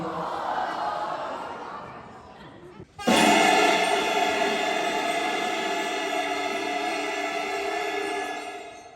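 A group of band students buzz on clarinet and other mouthpieces together, a loud, chaotic blend of pitches that bursts in suddenly and holds steady.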